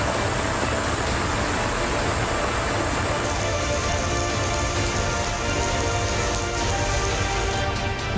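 Heavy monsoon rain pours down steadily and loudly, a dense unbroken hiss of drops hitting surfaces close by.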